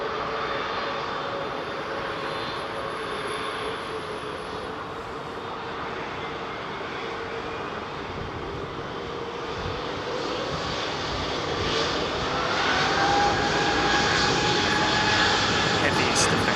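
Airbus A330neo jet engines at Heathrow give a continuous broadband roar that builds gradually toward the end, mixed with distant airport ambience and occasional talking.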